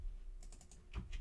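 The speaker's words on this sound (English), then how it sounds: "Why is my keyboard not working?" Quick burst of soft keystrokes on a computer keyboard, a handful of light clicks in an uneven rhythm, close and quiet against a faint hum.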